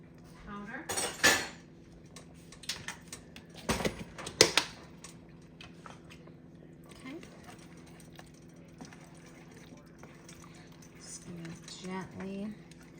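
Vegetable beef curry being stirred in a pot, with a few clinks and scrapes of a spoon against metal between quieter stretches, close by and without talk.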